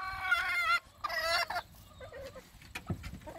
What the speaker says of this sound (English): There's one rude duck.